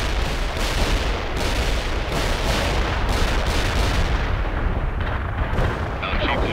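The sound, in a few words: heavy artillery barrage in video game World in Conflict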